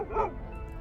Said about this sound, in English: Who is growling at me?